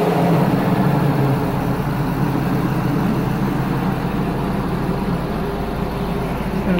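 An 8.1 Vortec V8 engine in a W24 Workhorse chassis starts and rumbles loudly and continuously at idle, a deep steady drone throughout with no talking.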